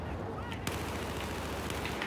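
Gunfire in a Battlefield 4 match, a steady dense clatter of shots with a few sharper cracks, loud and continuous for the whole stretch.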